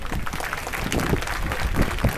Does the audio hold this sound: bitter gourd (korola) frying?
no